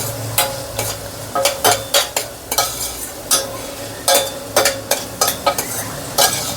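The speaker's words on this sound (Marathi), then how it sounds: "हे छान असं तुपात ह्या मसाल्यांमध्ये परतवून घ्यायचे आहे" Tender sorghum (paunk) being sautéed in ghee with spices, a spoon scraping the pan in quick, rhythmic strokes over a steady sizzle, close up with no talking.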